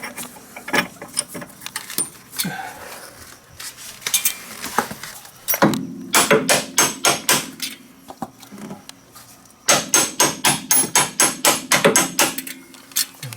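Hammer tapping a bolt through a DeLorean lower control arm suspension support link, in bursts of quick, evenly spaced metallic knocks close by, with pauses between runs.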